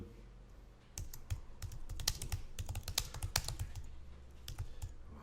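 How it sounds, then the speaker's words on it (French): Text is typed on a computer keyboard in a quick, dense run of crisp key clicks that starts after a second of low hum and carries on steadily to the end, close-up, with no talking. "vous avez un curseur qui clignote, et vous allez pouvoir taper votre texte"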